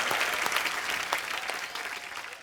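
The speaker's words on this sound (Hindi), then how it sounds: "एक बार जोरदार तालियां हो जाए" A studio audience at a comedy talk show applauds in a thick, continuous wash that holds steady, then eases off gradually toward the end, heard alone without talk.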